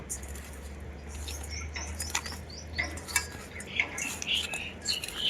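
Bitter gourd pieces being mixed by hand with salt, turmeric, mustard oil, cumin, dried chilli and mustard paste, producing close, soft wet squelches and light clinks against a bowl in an irregular rhythm.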